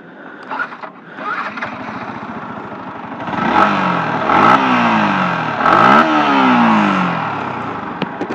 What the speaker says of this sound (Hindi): एबे MT15 रो मु आपन मान को एग्जॉस्ट नोट सुने दोजी